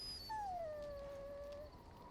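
Mabari war dog in the video game Dragon Age: Origins giving a single drawn-out, high whine that slides downward and trails off, heard alone at low level.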